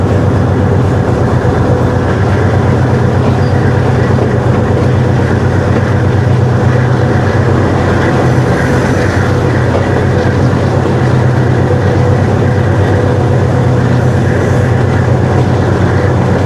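A heritage train on a special run between Attock Khurd and Golra Junction accelerates as the throttle opens, giving a loud, continuous locomotive rumble and rolling rail noise that holds steady throughout.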